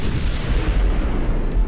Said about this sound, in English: Torpedo detonation on the armoured cruiser.